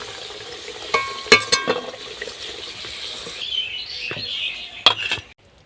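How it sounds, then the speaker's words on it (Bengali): Potatoes frying in hot oil for a Bengali mutton and potato curry, with a steady hiss and crackle broken by a few sharp clinks of a spatula against the pan, nearby and fairly loud, with no talking. "আলুগুলো লাল লাল করে ভেজে নিয়েছি"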